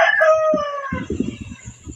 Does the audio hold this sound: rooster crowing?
yes